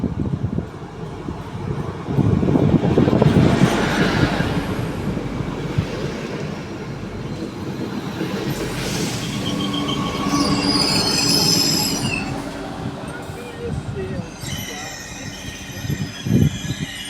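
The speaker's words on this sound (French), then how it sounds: "Le train TER numéro 873 990 en provenance de Nîmes entre en gare." A TER regional train from Nîmes pulls into Clermont-Ferrand station, a loud rolling rumble with sharp high wheel squeals rising and falling as the cars pass close by on the platform.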